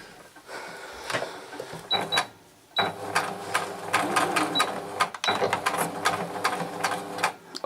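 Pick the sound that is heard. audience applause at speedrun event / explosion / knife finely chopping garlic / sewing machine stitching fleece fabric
sewing machine stitching fleece fabric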